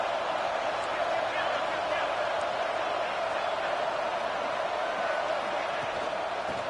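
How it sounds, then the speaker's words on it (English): Steady roar of a stadium crowd at a college football game in EA College Football 26, Georgia against Notre Dame, a dense continuous wash of cheering with commentary talk over it. "this crowd is fired up. Listen to this noise here."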